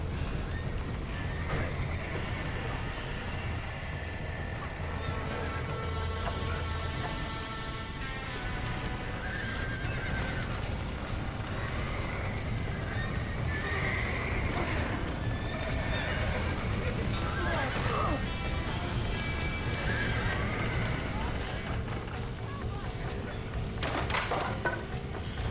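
Horses neigh and whinny repeatedly over clip-clopping hooves in the Red Dead Redemption video game, with outdoor wind and someone talking over the scene.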